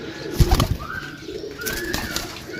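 Desi pigeons coo in a few soft, rolling calls, close by and fairly quiet, with a brief flutter of wings early on and a faint outdoor hum behind.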